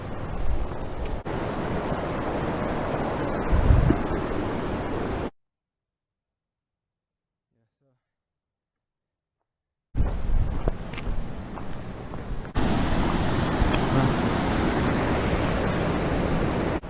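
A rushing river in a wilderness canyon of the San Juan National Forest, a steady loud roar of broadband water noise that cuts out for several seconds of silence, then returns with no talking.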